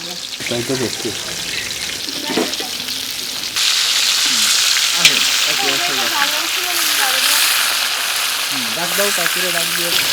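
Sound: puti fish frying in hot oil

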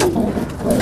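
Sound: French squab pigeons cooing

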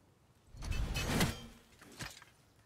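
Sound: door opening in the video game God of War

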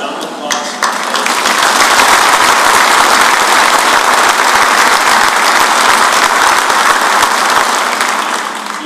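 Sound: audience applause at a military change of command ceremony

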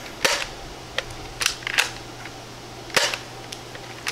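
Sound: DartZone Max Outlaw foam dart blaster firing

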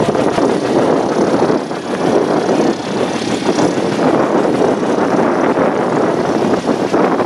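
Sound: B-17 Flying Fortress engines warming up during run-up

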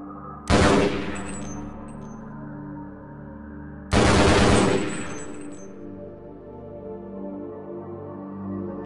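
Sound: gunfire in a video game

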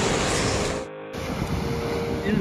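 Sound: sea waves breaking on the shore

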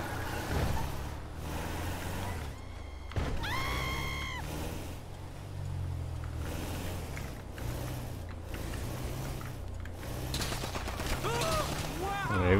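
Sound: gunfire in GTA RP video game

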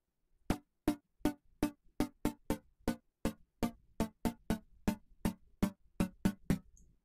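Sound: percussive synth sound with very quick attack and fast decay

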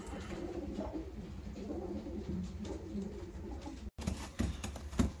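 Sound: pigeons cooing

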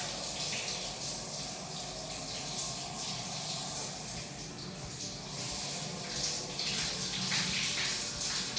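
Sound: shower running in an airport lounge bathroom

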